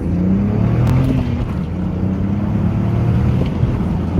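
A cheap BMW with a misfire, engine still warming up, revs steadily at three-quarter throttle toward about 4,500 RPM, a loud, sustained engine drone held close throughout.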